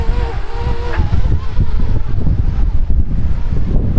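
Strong gusts buffet a small DJI Mavic Mini drone in flight, producing a loud, ragged low roar of wind noise on the microphone. A thin whine from the drone's motors shifts in pitch beneath the buffeting.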